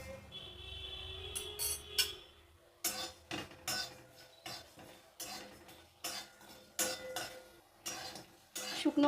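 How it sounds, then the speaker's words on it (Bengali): Dry chili, cumin and coriander roasting in a dry pan, heard as a close run of sharp metallic spoon scrapes and clinks against the pan in an irregular rhythm, fairly quiet, with no talking. "শুকনো মশলাটা দেখো ভাজা হয়ে গেছে"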